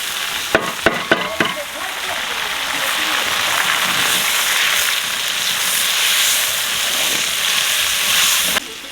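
A tomato and green chili mixture hits hot oil with golden garlic in a large village cooking pot, opening with a few sharp clanks of pouring, then a loud, steady, close sizzle and hiss that continues throughout.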